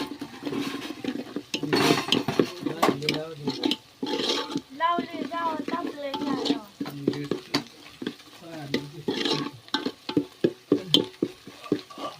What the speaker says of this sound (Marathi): मसाला चांगला भाजूया